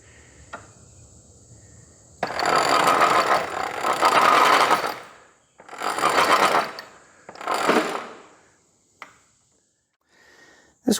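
Warehouse lift made by Economy Engineering of Chicago, its load lowered by feathering the brake after releasing the clutch; a loud grinding, rasping mechanical run comes in bursts of about three seconds, then two shorter ones, separated by quiet, with faint clicks.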